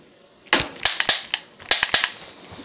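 Several sharp gunshots from a video game bank robbery, fired singly and in quick pairs, loud and close with no talk.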